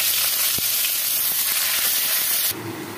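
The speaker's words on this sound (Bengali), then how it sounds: "এবার পেঁয়াজ কুচানো পেঁয়াজটা দিয়ে দেব।" Chopped onion frying in hot oil for chana masala, a steady close sizzle and hiss with a few faint clinks of stirring, quieting abruptly near the end.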